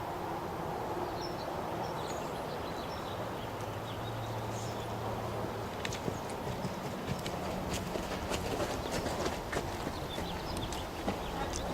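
Horse hooves clip-clop steadily across an arena as the animal moves at a canter, the rhythmic footfalls fairly faint and distant against a soft outdoor background with occasional birds.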